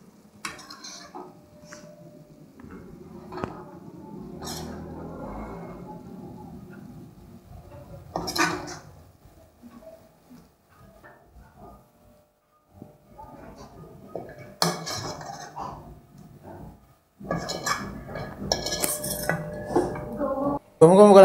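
Gongura dried fish curry is ladled from a pot into a bowl, giving scattered clinks and scrapes of metal utensils against cookware, separated by quiet gaps, with brief talk in places.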